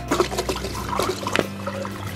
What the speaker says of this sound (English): These have been soaking since yesterday, so now I'm just gonna drain the water out